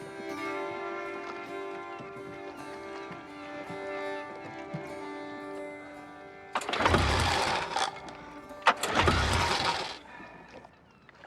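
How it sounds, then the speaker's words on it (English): A car engine cranks and fails to catch in two loud bursts of churning, coughing noise, each lasting about a second, over a steady musical drone with a quiet gap between them. "Damn engine."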